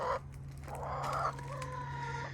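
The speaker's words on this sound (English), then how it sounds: "Hello, birds." Backyard chickens clucking nearby, a few short bursts of hen calls and soft clucks over a quiet steady hum.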